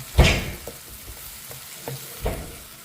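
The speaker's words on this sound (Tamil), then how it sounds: "கொஞ்சோண்டு கொடமிளகா போட்டு இதையும் அப்படி ஒரு அஞ்சு நிமிஷத்துக்கு லைட்டாக அந்த நிறம் மாறாமல் வதக்கிக்கலாம்" Capsicum sautéing lightly in a pan, a soft continuous sizzle broken by a few distinct scrape-and-stir strokes of a spoon, close and moderately quiet with no talking.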